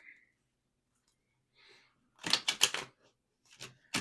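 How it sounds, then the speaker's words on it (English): Quiet stretch broken by a few soft rustles, then a quick burst of crisp riffling and snapping as tarot cards are shuffled close by. "As I'm shuffling the tarot cards"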